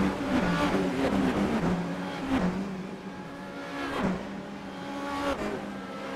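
Formula Renault 2.0 race cars accelerate as a pack at Monza, several engines snarling and rising in pitch together, a loud continuous roar with swells as the field charges past, and no talking.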